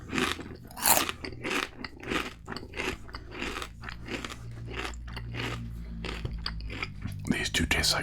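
Crunchy folded-over potato chips, one tucked inside another, are bitten and chewed close up in a steady run of loud, crisp crunches across the whole stretch, with soft mouth sounds between bites.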